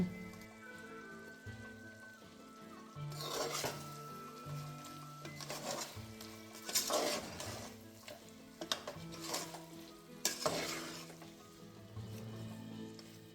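Chicken being stirred with turmeric in a pot for Ambur-style chicken biryani cooked in a pressure cooker, with tomatoes added; scraping stirs and soft sizzling come in bursts under steady background music, no talking.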